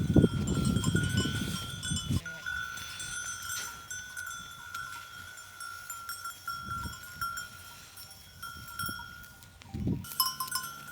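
A herd of goats bleats close by, with bursts at the start, middle and end over a steady bell-like ring and low rustling between calls.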